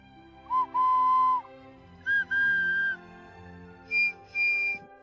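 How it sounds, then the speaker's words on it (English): Three clear, pure whistle tones in turn from whistles with differing cavities, each pitched higher than the last, each a short blip then a longer steady note. "These whistles are made with varying cavities."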